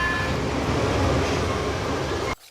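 A bullet train in a Power Rangers movie rushes past as a loud, dense, continuous roar and rumble that cuts off abruptly near the end.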